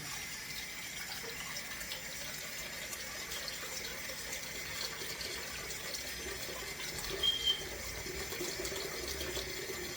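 Hot water running from a kitchen tap into a bowl, a steady even hiss and rush of flow that holds constant throughout, moderately quiet and alone.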